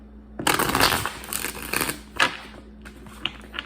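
Tarot cards being shuffled in several quick riffling bursts, crisp and close, with short pauses between them and no talking.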